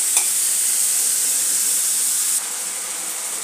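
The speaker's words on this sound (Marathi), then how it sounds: "कांदा घालून घेतलेला आहे। आता याला चांगले परतून घेऊ।" Onions sautéing in a pan for a dry chicken dish give a steady close sizzle and hiss, with a brief stir near the start, then a slight drop in level partway through.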